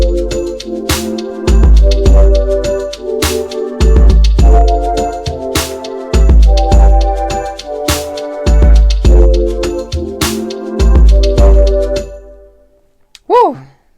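A GarageBand programmed drum beat on iPad Pro with heavy kicks and crisp hits in a steady, shifting pattern over synth chords, stopping near the end before a short rising sweep.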